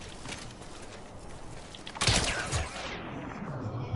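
Gunfire in the video game Death Stranding: a sharp burst of shots rings out midway through, followed by a decaying sweep, over a constant bed of game ambience.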